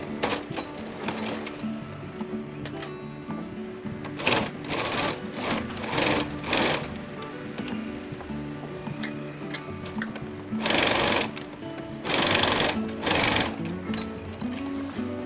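A sewing machine runs in bursts of fast mechanical stitching through quilted fabric near a zipper, whirring and rattling, with short pauses and quieter handling sounds between runs.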